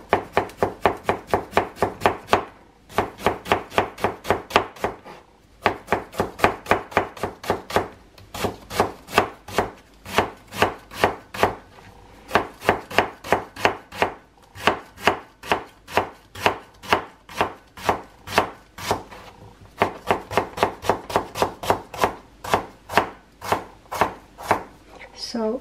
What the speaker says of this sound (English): here I will do the cutting